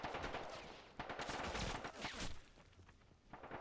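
Rapid gunfire crackles in a 1999 Battle of Kosare war game, with dense bursts of shots and distant reports overlapping in quick succession.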